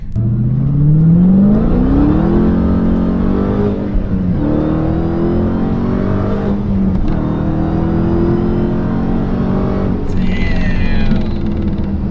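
A Dodge Challenger Hellcat revs and accelerates hard, its engine pitch climbing steadily in one long, loud continuous pull, with a brief break and a sharper burst near the end.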